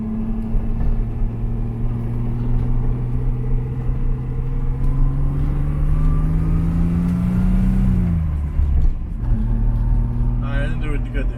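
A car engine hums steadily, then gives a quick throttle blip with a rise and fall in revs near the end as the driver double-clutches a gear shift, heard up close and fairly loud.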